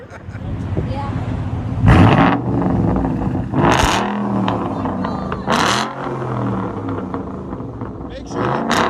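A Mustang GT with a very loud exhaust revs hard in several sharp bursts, crackling and popping between them, with people talking and reacting close by.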